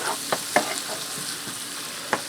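Butter melts in a pan for pork chop gravy, giving a continuous soft hiss and sizzle with a few light clicks of a utensil, close and without talk.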